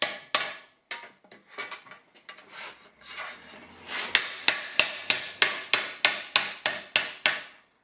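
Hammer strikes on sheet metal being shrunk with a tucking fork against a wooden base, first sparse and irregular with scraping between, then a steady run of about a dozen sharp, evenly spaced blows, close and clear.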